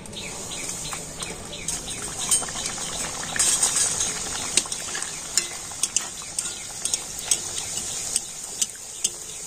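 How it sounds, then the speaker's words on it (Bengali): Dal puri fry in a pan of hot oil, a steady bright sizzle and bubbling close by, with light scrapes and taps from a spatula now and then. "আর এদিকে আমি তেল গরম হতে বসিয়ে দিয়েছি, আর তেল গরম হয়ে গিয়েছে। আর এবার আমি ডাল পুরিগুলো ভেজে নেব।"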